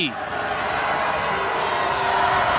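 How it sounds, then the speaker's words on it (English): A basketball arena crowd roars loudly and without a break at a Florida vs UNLV women's WBIT game during a free throw, a dense, steady wall of cheering and noise with voices blended in. "The crowd making as much noise as they possibly can."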